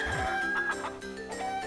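Chickens cluck repeatedly in Zelda: Minish Cap, short game-style clucks and squawks in quick succession over a busy musical background.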